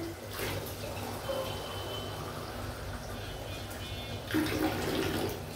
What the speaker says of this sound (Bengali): আমি 2 মুখ পানি দিব, বেশি দেব না।